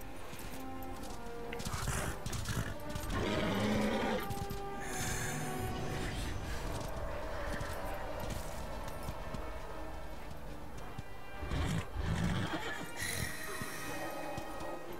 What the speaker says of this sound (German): Und ja, der Reiter hat endlich sein Pferd wieder.